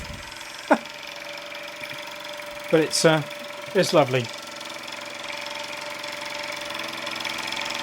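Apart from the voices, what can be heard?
Luton Bowman PW201 model steam engine running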